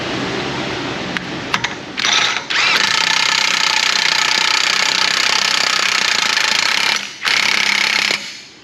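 Impact wrench on the axle bolts of a 4x4 Dodge Ram 1500 with a 5.7 Hemi, hammering loudly in long sustained bursts with short gaps between them, and a few clicks at the start.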